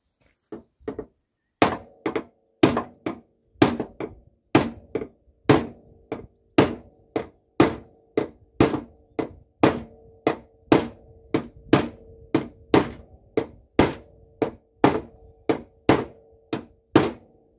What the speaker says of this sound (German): Da können wir ja ruhig ein bisschen mit dem ne, normalen Hammer arbeiten